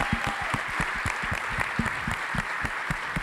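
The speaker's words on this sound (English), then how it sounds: "Let's give them a round of applause." An indoor audience applauds at a film event for a Christmas movie, many hands clapping in a dense, steady roar with sharper individual claps close by, continuing without pause.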